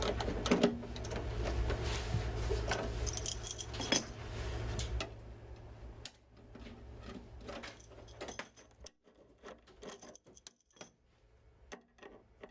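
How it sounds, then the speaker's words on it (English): Blank panels come off a Kramer modular matrix chassis with quiet metallic clicks, clacks and rattles, a busy cluster of handling noises early on, then sparser, fainter taps and knocks. "So the first thing to do is to remove the blanks that are supplied with the matrix."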